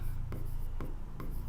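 Pen scratching on paper while working an A-level accounting exam question, three short faint strokes spaced apart over a low steady hum.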